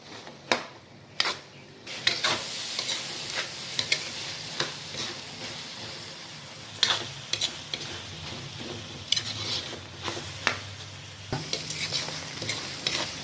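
Bopis sizzles as it fries in oil in a pan, with repeated sharp scrapes and clinks of a spoon stirring it through a steady hiss, close up and with no talking.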